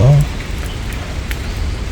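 Rain falls steadily over a barefoot walking path of red clay on a rainy day, giving a soft, even hiss. A brief voice is heard at the very start.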